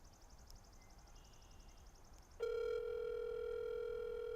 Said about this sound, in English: he picked up on the first ring